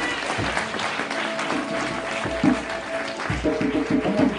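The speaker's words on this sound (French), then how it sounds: "Est-ce qu'on peut acclamer Jésus?" An audience applauds and cheers at a religious gathering, a steady roar of clapping lasting throughout with a few louder swells.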